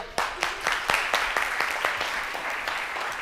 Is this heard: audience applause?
yes